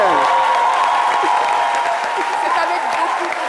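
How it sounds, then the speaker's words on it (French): Steady applause from an audience fills the whole stretch, with a voice sounding over the clapping throughout. "J'exige un tonnerre d'applaudissements pour elle."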